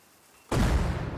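In the game Rust, after a quiet half-second, an explosive charge detonates in a sudden loud blast that roars on as a sustained, full-bodied rumble.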